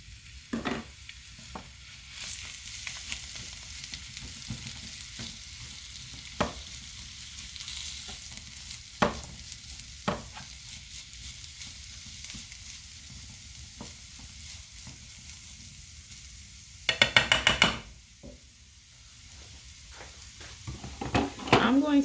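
Jackfruit sizzles and fries in a hot skillet with a steady, moderate hiss, broken by sharp scraping and stirring knocks and a louder clatter near the end.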